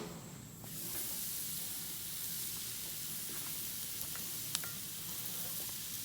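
Vegetables hit a hot Blackstone griddle and set off a sudden, steady sizzle that keeps going evenly, loud and close, with a few faint clinks and taps, and no talking.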